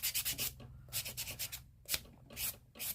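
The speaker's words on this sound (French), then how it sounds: "Et je vais donner un petit coup de polissoir." Nail buffer rubbed over false nails during an at-home manicure, giving close, rhythmic back-and-forth scratchy strokes in quick bursts with short pauses between them.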